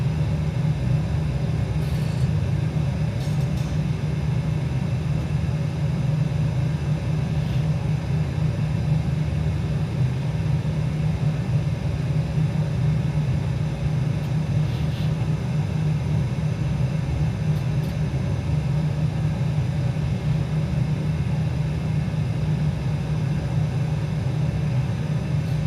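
A Ryanair airliner taxis toward the runway at Gibraltar in a flight simulator. Its engines give a steady, even rumble and drone with no change for the whole stretch, and no one talks.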